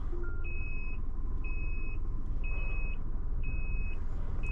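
An emergency SOS alarm inside a vehicle beeps in five evenly spaced, steady tones about a second apart over a constant low engine rumble.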